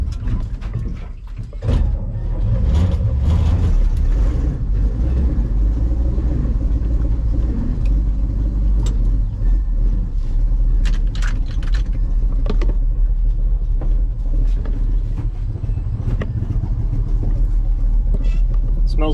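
A farm-fresh 1964 Chevy grain truck engine runs at a steady, loud rumble with a rough low idle, close by, broken by a few clanks and mechanical knocks.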